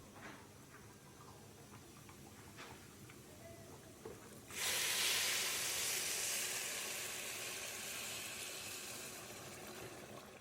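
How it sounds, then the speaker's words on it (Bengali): Water poured into a hot pot of fried pulao rice sets off a sudden loud, sustained sizzling hiss that slowly fades, after quieter kitchen clatter. "আমার পোলাওয়ের চালটা ভাজা হয়ে গেছে এবারে এর মধ্যে পরিমাণ মতো পানি দিয়ে দিব যাতে চালটা সিদ্ধ হয়"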